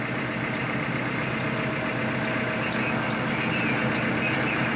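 A farm tractor engine runs steadily in a road caravan, a continuous, moderately loud drone from close by with no voices over it.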